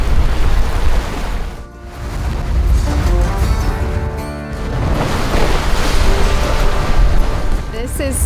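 Aboard a Seawind catamaran sailing past Raiatea, wind roars and waves rush steadily against the hull, loud and close throughout with brief dips in the gusting.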